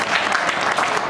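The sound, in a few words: audience applause for the poet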